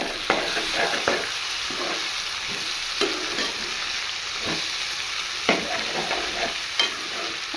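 Capsicum and potato sizzle steadily in a pan as a spoon stirs them, with repeated scraping strokes at an uneven rhythm over continuous frying hiss.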